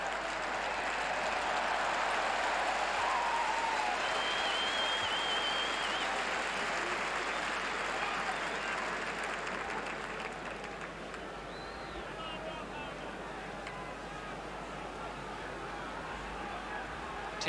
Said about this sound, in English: The crowd yelling their support from the northern stand for the All Blacks.